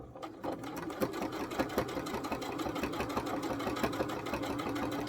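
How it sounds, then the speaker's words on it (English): A close sewing machine runs steadily, its needle chattering in fast, even rhythm as it stitches the hem and rickrack on a doll dress, continuous throughout with no talking. "I want to get it very, very close to the bottom of the skirt so that my hem and my rickrack is being sewn in place all at once."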